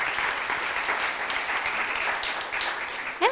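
An audience at a startup pitch night in France applauds a speaker with loud, continuous clapping that holds steady throughout and ends with a brief rise.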